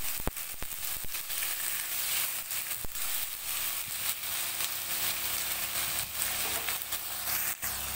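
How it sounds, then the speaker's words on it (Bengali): Bitter melon and potato pieces fry in hot oil in a pan, giving a steady sizzle broken by sharp scraping clicks from a spatula stirring the mix. "এবারে আলু করলা দিয়ে দেব। ভালো করে মিশিয়ে নেব।"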